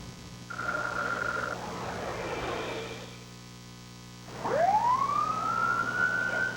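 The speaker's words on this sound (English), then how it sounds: "When she heard police sirens, Sherry Higgins raced to her children's high school." Police car sirens, a short steady tone first, then a siren rising and sweeping upward over a loud background rumble, fairly close and prominent.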